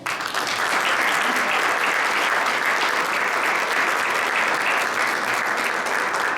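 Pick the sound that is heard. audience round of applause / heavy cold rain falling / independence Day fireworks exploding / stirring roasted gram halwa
audience round of applause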